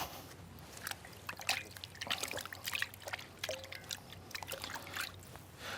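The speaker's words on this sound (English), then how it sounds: "Just give my hands a little wash there just before I start to work on the potatoes." Water runs and splashes while hands are washed before preparing potatoes, a soft, irregular trickle and patter of drips and pours, fairly quiet and close.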